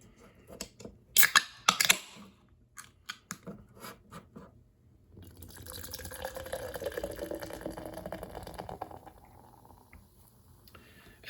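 Keystone Light Apple beer, a 4.1% ABV canned beer, hard-poured into a glass: sharp clicks and taps of the can opening come first, then a steady gurgling, fizzing pour lasting several seconds before tapering off.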